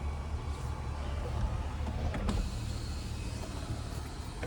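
A 2024 Cadillac Escalade Premium Luxury power sunroof shade slides closed with a steady, fairly quiet electric motor hum that runs evenly throughout, with faint cabin creaks.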